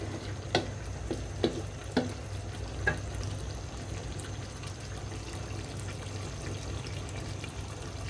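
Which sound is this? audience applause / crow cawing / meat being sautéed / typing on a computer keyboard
meat being sautéed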